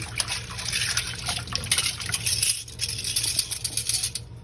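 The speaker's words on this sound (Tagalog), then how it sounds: "Pero bago yon magugas muna tayo ng plato." Dishes washed under running water, with steady splashing, dripping and clinking of plates close by and no talk.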